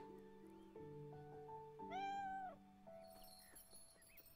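A cat meows once in the video game Beyond Eyes, a short rising-and-falling cry over soft musical tones and ambient game sound.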